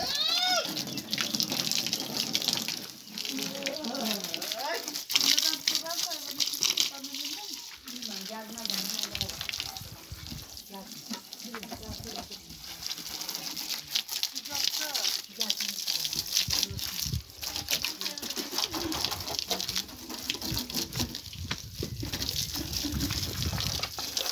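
Water sprays and gushes in uneven bursts while a tractor is washed, with a person talking over the rushing flow at times.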